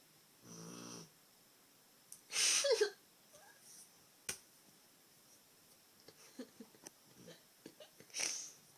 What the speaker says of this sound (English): My dog Lady sounds like a motorboat sometimes when she snores.